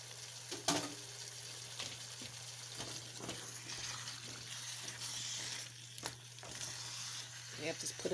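Potatoes and carrots fry in a pan with a steady, close sizzle, with scattered clinks and stirring scrapes over a low constant hum.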